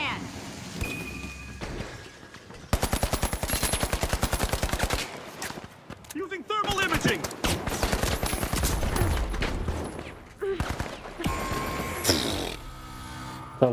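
Rapid gunfire bursts in The Finals, a competitive shooter video game, crackle loudly through the match, with steady repeated shots clustered in busy stretches alongside other game effects and talking.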